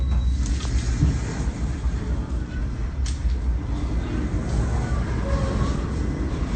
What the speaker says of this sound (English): the train stopped and now it's backing up